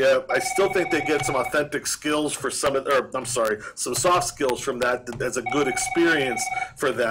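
A mobile phone rings with repeated electronic tones, heard in two bursts under continuous close speech from a person talking.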